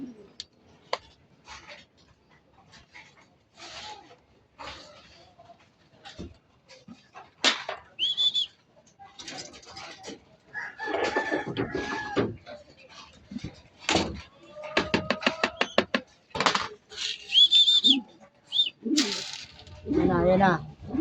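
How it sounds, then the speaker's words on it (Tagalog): Racing pigeons return from a training flight in Gapan, Nueva Ecija, with scattered wing flaps, landing knocks and soft cooing building up toward the end, while people talk intermittently nearby. "Ayan Ayan na yung ating kalapate mga idol."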